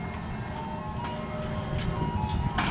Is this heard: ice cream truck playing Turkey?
yes